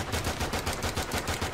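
Rapid gunfire in a video game shooter, about ten quick evenly spaced shots in a burst, loud and close, with no talk over them.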